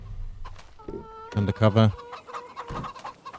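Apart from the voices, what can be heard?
chickens clucking in video game Farming Simulator 25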